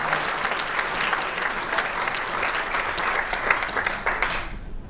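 Audience applause fills a room during a product presentation, steady clapping from many hands throughout, fairly loud and close, with a few sharper claps standing out.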